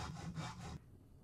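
A crafting saw from the Minecraft modpack GregTech New Horizons rasps through wood in quick back-and-forth strokes for about three quarters of a second, then stops abruptly and leaves near silence.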